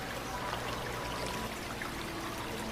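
Water pours onto a rock while an aquarium tank for an axolotl is filled, a steady close rushing splash that runs unbroken and fairly soft, with no voices.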